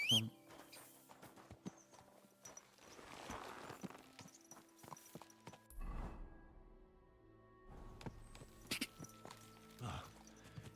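A horse's hooves clip-clop at a walking pace in Kingdom Come: Deliverance 2, close and fairly quiet, the steady beats mixed with faint game ambience and occasional louder knocks.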